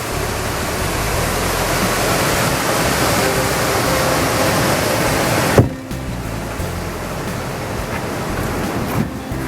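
Steady roar of fast river rapids on the Moose River, a broad continuous rush of water close by that suddenly drops in level partway through, then carries on more softly.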